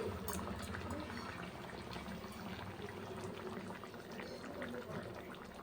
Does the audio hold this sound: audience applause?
no